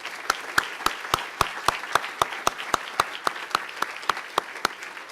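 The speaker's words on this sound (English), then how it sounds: "Let's give them all another round of applause." Rhythmic, evenly spaced claps ring out at an awards ceremony, like a small group clapping in unison, about three claps per second, crisp and distinct over a quiet background.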